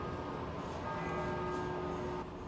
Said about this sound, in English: Edinburgh likes a bell